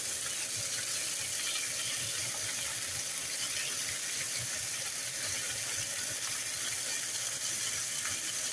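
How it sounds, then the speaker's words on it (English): Chicken sears in a hot pan with a steady, close, dense sizzle that holds evenly throughout, with faint clicks and low rumbles underneath and no talking. "Back on that side, get another smaller sear on it."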